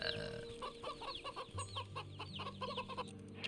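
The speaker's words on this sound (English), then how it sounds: "Plump and happy hen." A plump hen in the Wytchwood video game clucks in a quick, steady series of short clucks, fairly close, over a sustained low musical drone.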